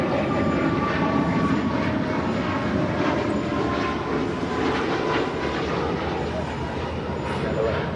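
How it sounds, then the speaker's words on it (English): United Boeing 737 MAX 9 departing LAX for Phoenix, a continuous rumbling jet roar with pulsing swells, moderately loud and somewhat distant, while voices murmur faintly in the background. "This is United 1193 departing to Phoenix on a MAX 9."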